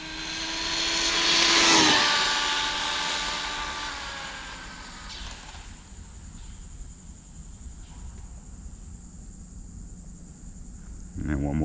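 An ARRMA Limitless RC car making a full-throttle speed pass, a high-pitched motor whine that rises to a peak and then fades into the distance, followed by quieter background noise.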